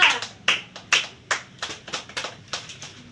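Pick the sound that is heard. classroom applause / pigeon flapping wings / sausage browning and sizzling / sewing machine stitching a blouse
classroom applause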